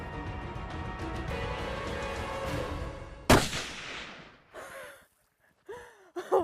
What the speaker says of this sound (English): After I made the shot